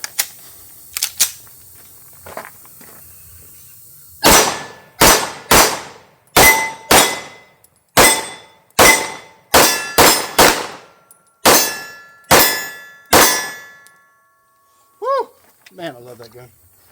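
Sig P211 GTO pistol shooting steel targets on a range, a series of loud, close gunshots in an uneven rapid string, each followed by a ringing metallic clang, with brief talk before and after.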